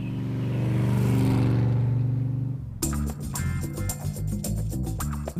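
A Mitsuoka car drives along, its engine droning up close before cutting to a busier passage of rumbling motor and mechanical noise.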